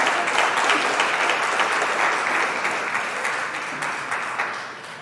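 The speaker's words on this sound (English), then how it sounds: "Give him a round of applause, please." An audience at a school long service awards ceremony applauds a priest, a dense, steady crowd of clapping that holds strong and then slowly fades toward the end, with no talk over it.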